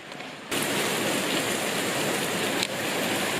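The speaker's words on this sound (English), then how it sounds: "Oh, it's raining so much right now." Heavy tropical rain in Cairns during the rainy season pours down in a dense, loud, continuous roar that starts abruptly after a quiet moment, with a brief surge near the end.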